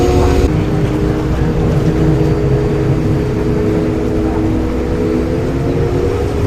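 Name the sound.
boat ride in Venice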